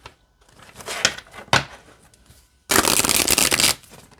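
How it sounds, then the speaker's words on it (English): A deck of oracle cards being shuffled by hand: a few soft riffling passes, then a loud, sustained riffle of sturdy cardstock close by, with no talking. "Okay, let's shuffle."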